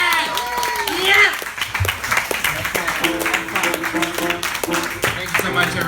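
Audience applause and cheering for a first-time stand-up comedian at a comedy show, starting as a loud burst of clapping then continuing steadily as a full room of hands, with some whoops and background voices mixed in.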